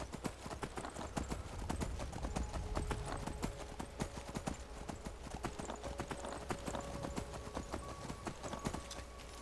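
Rapid clip-clop of horse hooves galloping steadily in the video game Skyrim, fairly faint, with quick rhythmic thuds continuing throughout and no talking over them.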